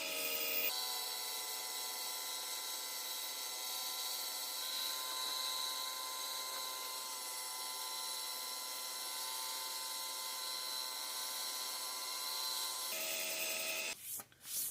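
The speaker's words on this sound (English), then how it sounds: "I think we're ready to give this a hard sand with some 320 grit" An opal and mother of pearl inlay gets a hard sanding with 320 grit abrasive, giving a steady, even rasping hiss that runs close and constant for most of the stretch, then stops abruptly near the end.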